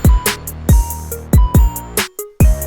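A short, dry, unprocessed keyboard melody plays as plucked, bare notes, punctuated by several punchy low thumps in a loose rhythm.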